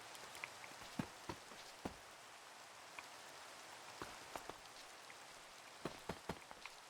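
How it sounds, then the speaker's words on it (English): Steady rain falls in the Minecraft video game as a constant soft hiss, with scattered sharp drip and patter ticks at irregular intervals and no talking. "Rain is actually annoying."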